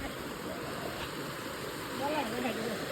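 Heavy rain that has been falling since morning, with a lot of floodwater rushing past in a steady, close gurgling flow, while voices talk faintly in the background.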